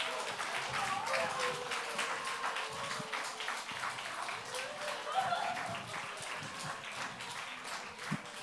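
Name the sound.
church congregation applauding training graduates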